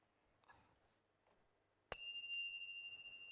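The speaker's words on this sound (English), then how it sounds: "I'm going to ring a bell. The bell will sound like this." A single bell struck once as a start signal during a talk on human development, ringing out loud and close with a bright, sustained tone that slowly decays, after a few faint quiet sounds.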